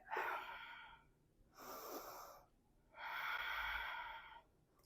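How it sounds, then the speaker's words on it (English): Ujjayi breathing during a vinyasa yoga flow: three long, hissy, audible breaths, each lasting about a second or more, alternating inhale and exhale with brief quiet gaps between them, close and fairly loud with no talking. "Ujjayi breathing."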